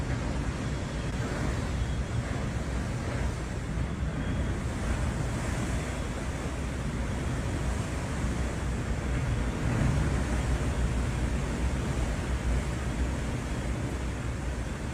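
Storm gales drive heavy surf against the coast at Spanish Point, County Clare, a constant loud roar of crashing waves and wind buffeting the microphone for the whole stretch.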